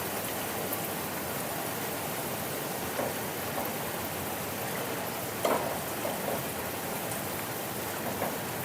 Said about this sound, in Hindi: इस तरह से फ्राई करते रहना है आपको